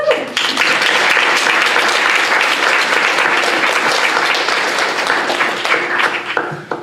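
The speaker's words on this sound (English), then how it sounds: "please just give her a round of applause" A large crowd applauds loudly and continuously for several seconds before the clapping tapers off at the end.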